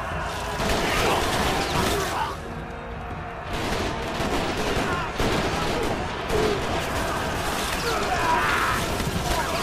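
Gunfire in Sengoku Basara Samurai Heroes crackles in dense, rapid volleys of shots and clashing battle noise, loud and near, broken by a brief lull, with voices talking over it.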